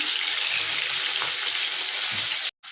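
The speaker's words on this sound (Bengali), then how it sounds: "এবার মাছটা আমি ভেজে নেব" Loud, steady sizzling and crackling of small hilsa fish frying in hot oil, continuous and close, cutting off briefly near the end.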